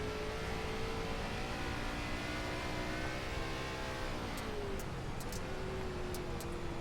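A steady onboard engine drone from an ARCA race car circling the dirt oval at Knoxville Raceway in a racing game, loud and continuous with a smooth pitch dip and recovery through a corner, with faint tapping near the end and no talk.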